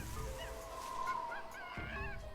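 Jungle bird calls from Tales of Monkey Island, a short series of warbling, honk-like cries sounding fairly close against a steady ambient bed, with no talk.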